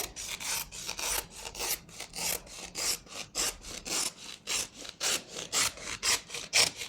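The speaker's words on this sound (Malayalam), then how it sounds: "ഞാൻ നാല് പീസ് ഇതുപോലെ കട്ട് ചെയ്തിട്ടുണ്ട്" Wood pieces for a homemade bed are cut by hand, a close, even back-and-forth sawing rhythm of about twenty rasping strokes with no speech.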